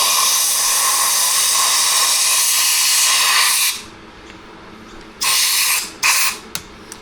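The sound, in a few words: blowing air over Husqvarna 365 chainsaw crank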